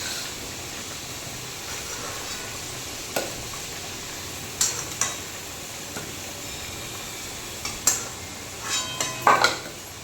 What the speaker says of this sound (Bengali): লাল লাল করে আলু কটা ভেজে নেব।